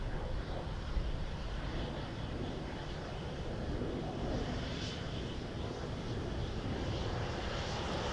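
An airplane on final approach to runway 28 left at Dublin Airport, a steady broadband engine roar holding at an even level throughout with some wind noise, no talk.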